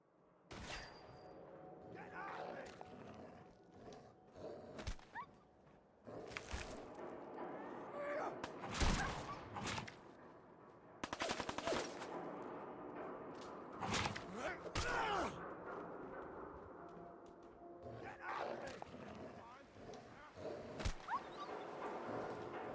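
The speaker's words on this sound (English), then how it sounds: "Someone using a shotgun from up above?" Shotgun blasts from an elevated position in Fallout 4, with repeated sharp booming shots scattered across the scene over ambient game sound and occasional clatter.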